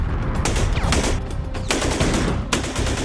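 World War II machine gun fire in a battle from the American side, with rapid bursts crackling loud and close over a dense, noisy battlefield background.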